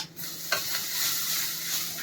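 Chopped tomatoes drop into a hot, oiled pan for a Karnataka-style long bean sambar and sizzle loudly at once, then keep up a steady frying hiss with a clatter of stirring. No voices are heard.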